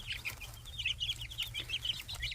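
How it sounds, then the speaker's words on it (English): Young chicks cluck and peep in a backyard coop bedded with pine shavings, a busy run of short chirpy calls heard close and continuous, with no voices over them. "It's the new chick's first outside adventure."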